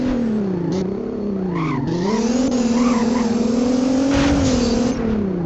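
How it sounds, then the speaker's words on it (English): A Nissan GTR in the video game Driving Empire drones steadily with a loud, rising and falling engine note, shifting pitch as it accelerates and eases off, close and continuous with no talking. "It sounds like a real GTR in my opinion"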